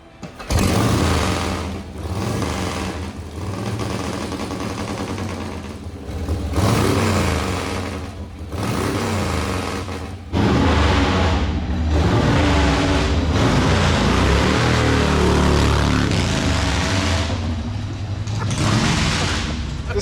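Vintage motorcycle engine fitted with a Linkert carburetor, running loud and close at a rumbling idle with repeated revs and throttle blips.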